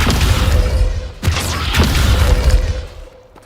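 A Descendo spell in the video game Hogwarts Legacy slams down with a loud, booming crash, followed by rumbling debris that fades out over a few seconds.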